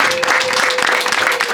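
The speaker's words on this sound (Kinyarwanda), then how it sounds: "Abanyumva mwiha amashyi" Audience applause at a Rwandan diaspora gathering honoring contributors to development programs: dense, steady clapping throughout with a faint voice underneath.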